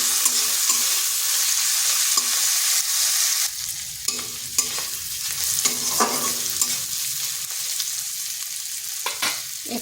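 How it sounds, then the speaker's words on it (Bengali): Long-sliced onion frying in a pan, a steady loud sizzle throughout with intermittent scraping stirs and light clicks of the spatula, and no voices. "পেঁয়াজটা লাল লাল করে ভেজে নিচ্ছি।"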